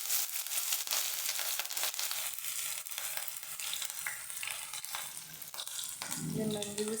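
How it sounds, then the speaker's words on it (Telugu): Ginger frying in oil in a home kitchen pan, a steady broadband sizzle with stirring scrapes running throughout, loud and close, with a brief louder burst near the end. "ఇందులో కొంచెం నూనె పెట్టి ఇందులో ఫస్ట్ అల్లం వేస్తాను"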